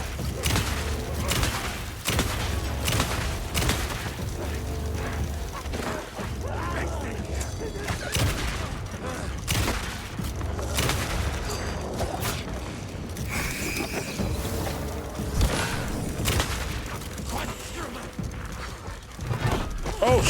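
A shotgun fires repeatedly in Alan Wake 2, heavy close blasts scattered through a dense, loud game mix with mechanical clanks between shots.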